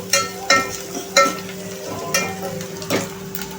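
Onions fried in a pan until reddish for a black field bean curry, a steady sizzle punctuated by several sharp scrapes of stirring.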